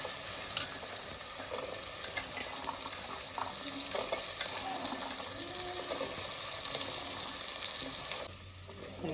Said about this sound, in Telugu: ఆ గోరుచిక్కుడుకాయను ఇలా ఉల్లిపాయలల్లో వేయించుకోవాలి